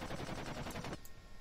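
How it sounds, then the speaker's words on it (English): A short burst of rapid machine-gun fire from aircraft guns in Kerbal Space Program with BD Armory, a fast, faint rattling stream that cuts off after about a second. "it's the blast from my own guns"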